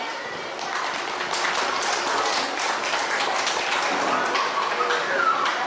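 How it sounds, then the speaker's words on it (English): A school audience at a Christmas evening event applauds in a dense, sustained wash of many clapping hands, building slightly and holding steady for several seconds with no speech over it. "let us give a round of applause to Mrs. Rubelin de la Peña"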